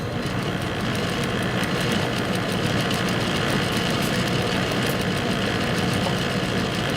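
A sewing machine runs steadily as it stitches curved fabric on its own, a continuous close mechanical whir with a fast even needle rhythm and no talking.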